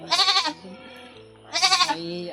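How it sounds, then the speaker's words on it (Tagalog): Two loud, near goat bleats, each a wavering, quavering cry of about half a second, separated by a short pause with low background noise. "May alay din kaming kambing."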